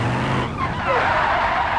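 A car in a driving video game brakes hard and skids, giving a steady, loud tire screech over engine noise that lasts under two seconds.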